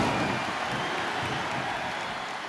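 Wrestling arena crowd at a Last Man Standing match between The Undertaker and The Great Khali, a steady, loud, dense roar of cheering and clapping throughout, with no clear voices standing out.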